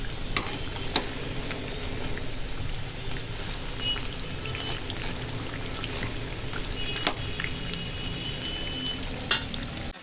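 Masala-coated potato bhaji for a sandwich-style snack fry in hot oil with a continuous bubbling sizzle, punctuated by a few sharp ticks and clinks.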